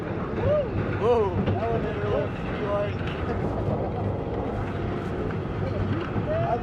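The Millennium Force roller coaster at Cedar Point in Sandusky, Ohio, climbing its lift hill: a steady, loud mechanical rumble and rattle that continues throughout, with riders talking and exclaiming over it.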